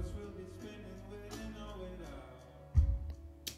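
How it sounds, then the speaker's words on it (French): Studio-type reverb soloed from a live band mix recorded in a rehearsal room or concert, a washy sustained tail of instruments and cymbals with a low thump near the end, moderately loud and without voices. "Voilà, c'est juste une reverb type studio en fait."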